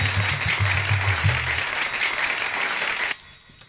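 An audience at a Hindu religious discourse claps loudly in welcome of a visiting priest, a steady wash of applause that holds for about three seconds, then cuts off sharply.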